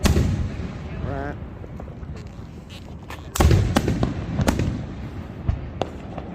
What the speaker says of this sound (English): the fireworks that we're watching in our city tonight at Warren, Ohio has started